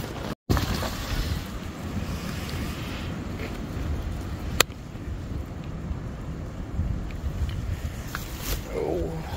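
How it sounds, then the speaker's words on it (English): Wind buffets a Haven hammock tent during winter camping in the mountains, a steady low rushing roar with microphone gusts, one sharp knock near the middle, and no talking. "now the wind is definitely here"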